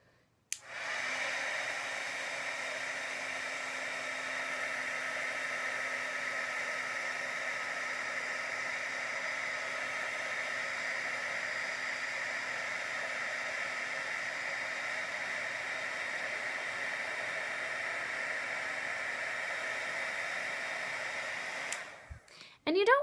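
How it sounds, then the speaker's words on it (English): A heat tool blows steadily beneath enamel for about twenty seconds, a constant loud whooshing hiss that switches on near the start and cuts off at the end, with no talking. "the trick with this technique is heating it from the bottom"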